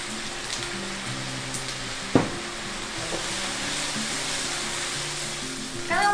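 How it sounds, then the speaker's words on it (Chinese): Vegan Hong Kong-style stir-fry of wide rice noodles with a little soy sauce in a wok, a steady close sizzle broken by scraping and stirring clatters and one sharp knock. "倒入少许的酱油，让板条均匀上色后取出备用"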